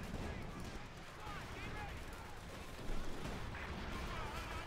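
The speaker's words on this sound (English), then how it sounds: "So many explosions, so much death" Dense, continuous battle noise of gunfire and explosions in Company of Heroes 2, rumbling and crackling throughout, with a louder burst near the middle.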